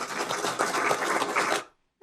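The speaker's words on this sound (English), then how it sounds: "I will award you with plenty of applause like this" An applause sound effect, a dense burst of clapping lasting under two seconds that stops abruptly, moderately loud and alone.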